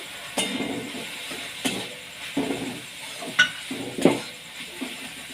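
A spoon stirs paneer filling in a pan, giving intermittent scrapes and light metallic clinks every second or so at close range, with no voices.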